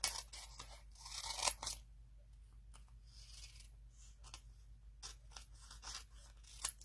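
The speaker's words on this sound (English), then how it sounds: "using my scissors, I will cut that adhesive sheet" Scissors snip through an adhesive sheet in a run of quick crisp cuts, followed by softer scattered snips and rustles, close up.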